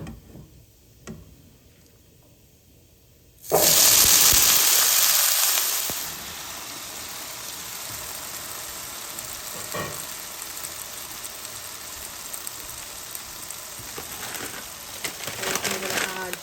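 Potatoes drop into a pan of hot oil with cumin seed and burst into a loud, steady sizzle that settles into continuous frying crackle, with small ticks and stirring scrapes.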